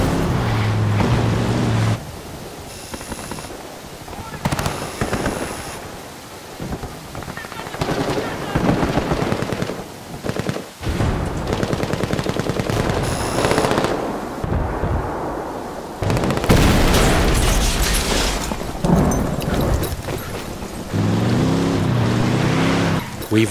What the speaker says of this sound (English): to provide further disruption, we blow that C4 we placed earlier